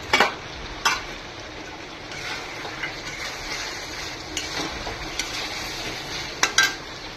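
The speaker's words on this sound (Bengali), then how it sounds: "আমি এবার এর মধ্যে টমেটোগুলো দিয়ে দিচ্ছি, টমেটোগুলো ছেড়ে দিচ্ছি।" Chicken pieces fry in a pan as chopped tomatoes go in, giving a continuous dense sizzle with occasional spatula scrapes and clinks against the pan.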